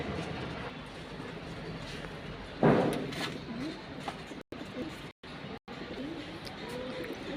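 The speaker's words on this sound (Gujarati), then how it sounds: "ચકલી છે ને કાંગ ખાય છે, બીજું કાંઈ ખાતી નથી" Sparrows feeding on foxtail millet on a home balcony give scattered, faint chirps over a low steady background, with one brief louder burst of noise partway through.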